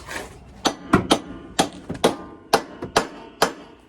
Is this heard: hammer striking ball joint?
yes